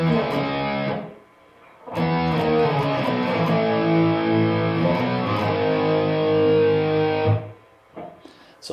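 Distorted electric guitar playing the chorus, with sustained chords in two loud phrases separated by a short gap, then a brief trailing note.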